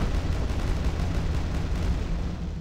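Heavy BFG blasts and explosions tearing through enemies in the 2023 remaster of Quake II 64, Command Core level on Nightmare difficulty: a dense, continuous low rumble of booming detonations with no talk.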